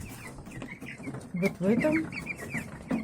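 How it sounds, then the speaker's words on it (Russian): Sick broiler chicks in a brooder make a busy patch of short, raspy vocal sounds at close range, while someone speaks briefly over them. "Слушайте, как они кашляют."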